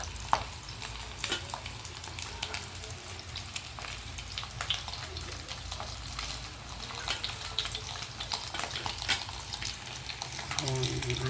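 Pork chop frying in a pan with steady crackling sizzle and some stirring, with a few utensil clicks and brief bits of voice over it.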